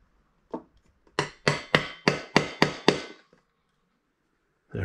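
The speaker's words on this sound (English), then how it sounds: "See if I can give it a good whack." A hammer strikes a metal punch repeatedly: one tap, then six sharp, evenly spaced blows ringing briefly, followed by quiet.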